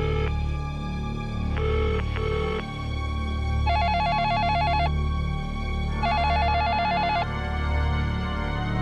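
A mobile phone rings with a repeating electronic trill in several bursts, loud and clear against a steady low background hum, with no voices over it.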